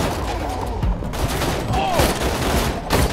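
Rapid bursts of automated turret gunfire in the video game Borderlands 2, a loud, dense fusillade of repeated shots running continuously through the moment.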